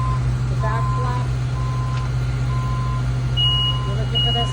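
Forklift warning alarm beeping in a work area, a repeating high electronic beep at a steady interval over a constant low engine hum, with faint voices nearby.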